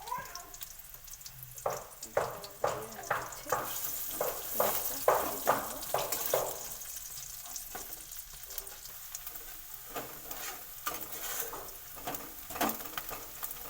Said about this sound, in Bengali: রান্না করার জন্য পেঁয়াজ কুচি কেটে রেখেছি, সে পেঁয়াজটা ভেজে নেব